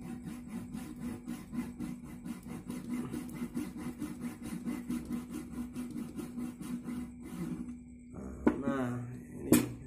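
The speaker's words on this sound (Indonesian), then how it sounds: "kita coba yang ini gergaji pembelah" A rip saw rasps through wood in steady back-and-forth strokes for several seconds, followed by a few sharper knocks and a brief voice.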